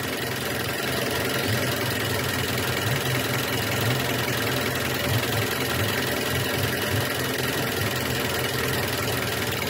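A car engine idles steadily and close by during an idle speed control valve test, a continuous low rumble holding for about ten seconds with a slight drop in revs and no talk.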